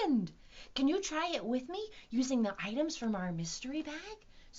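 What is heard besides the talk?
No everyday noises stand out.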